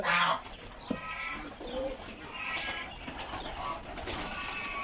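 Pigeons coo softly on a farm in Saudi Arabia, a few low murmuring calls over faint ambient noise, with a brief flutter of wings near the start and scattered chirps.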